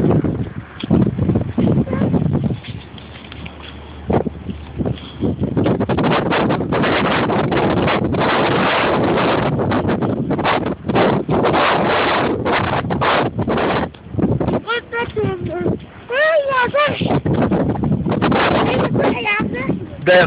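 Strong gusting wind from a sand and dust storm in Kuwait roars and buffets the microphone almost continuously, loud and close, with people talking over it at times.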